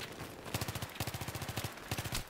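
Short micro-bursts of M5K submachine gun fire in Battlefield 3: three quick clusters of rapid, close, loud shots separated by brief pauses, with no talking.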